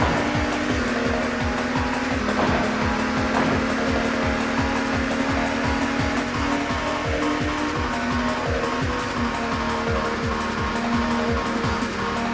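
Engine whine from a retro racing video game, a constant loud buzzing drone with a steady pitch and rapid rhythmic ticking underneath, unbroken for the whole stretch with no talking.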